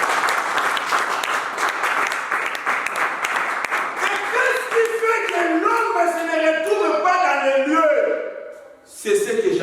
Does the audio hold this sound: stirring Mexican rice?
no